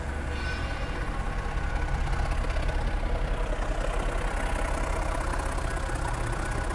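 A Mercedes-Benz E63 AMG with an upgraded exhaust idles with a deep, rumbling burble, steady and loud throughout, no voices heard.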